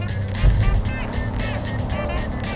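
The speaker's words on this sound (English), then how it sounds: "VTEC! Oh, I didn't want to downshift." Engine of a 2022 Honda Pilot TrailSport SUV revving loudly through a downshift, a steady close, rumbling drone with a brief surge near the start.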